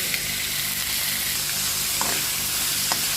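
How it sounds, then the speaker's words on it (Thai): Pieces of pork stir-frying in a pan for a broccoli dish, a loud steady sizzle with occasional scraping stirs, close and continuous. "ผัดหมูให้สุกก่อนนะคะ"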